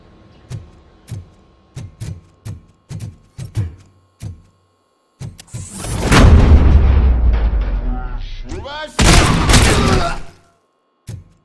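Gunfire in the RoboCop: Rogue City video game: a string of sharp, evenly spaced shots rings out, then gives way to a sustained, roaring barrage that swells, dips and flares again before one last report.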